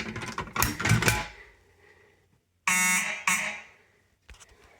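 Fire alarm system under test sounding a loud, close electronic alarm in two bursts separated by a brief silence, with rasping buzzer-like tones and a fainter clatter before them.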